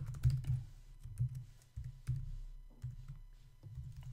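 Computer keyboard typing at a desk, a quiet close run of irregular key clicks and taps in short bursts with small pauses, no voices.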